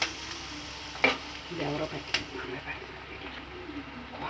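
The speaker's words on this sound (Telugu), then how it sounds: "బాగా మిక్స్ చేసేసుకోండి ఆ 3 ఇంగ్రీడియంట్స్ కూడా" Ingredients for an egg and dried methi curry get stirred and mixed in a pan, giving a soft continuous sizzle with two sharp clinks of the utensil against the pan.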